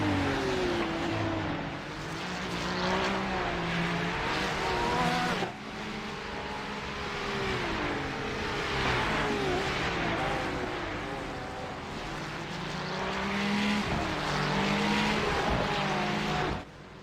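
Race cars lap the track during the 12 Hours of Bathurst endurance race in a sim racing game, engines droning loudly and continuously with rising and falling revs as cars accelerate and shift, and no talk.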